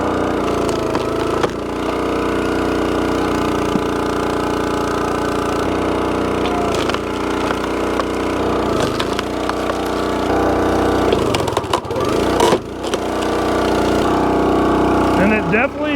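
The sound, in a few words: 28-ton DeWalt firewood splitter splitting a knotty log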